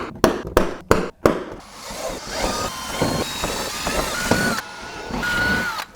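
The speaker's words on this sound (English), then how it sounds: "We're gonna grab our drill and then just make these holes first." Power drill boring eight holes for a CSF dual engine oil cooler kit install on an FL5, opening with a few sharp knocks, then a steady whining, rising and falling drill run close by.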